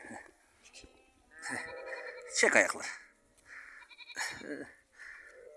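Sheep and newborn lambs bleat during lambing in a farm pen, several wavering calls rising and falling close by, mixed with people talking over the birth.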